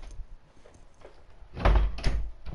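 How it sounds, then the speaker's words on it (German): A door in Alien: Isolation slides shut with a heavy mechanical rush that ends in a solid thud, following some quieter shuffling noise. "Machen wir die Tür zu."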